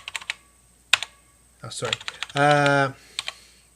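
Someone types one-handed on the French AZERTY keyboard of a TRS-80 Color Computer, with scattered sharp key clicks, a brief steady electronic tone and a short spoken apology.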